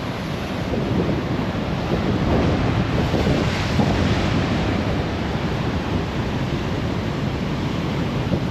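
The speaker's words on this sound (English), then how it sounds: "One big wave just came over." Big ocean waves surge and crash over a seaside pool wall on Scotland's north coast, a loud, continuous roar of surf and rushing water thick with wind buffeting the microphone, with no voices.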